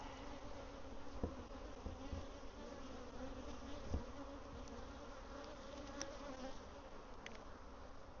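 A steady, close drone of honeybees buzzing around an open hive during a beekeeping inspection, continuous and even throughout with a few faint knocks and no talking.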